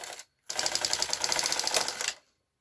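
A sock knitting machine stitching yarn gives a fast, even run of mechanical clicks and clatter, close by, lasting under two seconds after a short first burst and brief pause.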